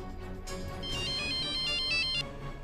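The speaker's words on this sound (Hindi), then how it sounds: "वो पुलिस स्टेशन से फोन था" A phone ringtone plays in a Hindi TV drama scene: a repeating electronic melody of bright tones, loud and clear over a steady background bed, with no talking.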